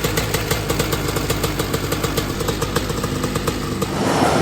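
Dirt-track race car after an engine swap, its engine running with a fast, even pulsing idle and a rough mechanical buzz, loud and close, revving up slightly at the end with no talk.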